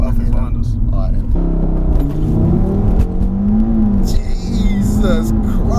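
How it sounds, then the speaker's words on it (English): A stage 1 tuned Audi RS3 rated at 424 bhp launches hard from a standstill. The engine rises in a loud, rising drone heard from inside the cabin, with excited voices talking over it. "We're doing a little launch now."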